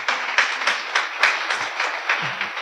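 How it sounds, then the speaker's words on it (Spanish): A church congregation claps in unison during a sermon, giving short, rhythmic bursts of applause at a quick, even beat, fairly close and loud. "Bríndele otro aplauso a Cristo por eso entonces."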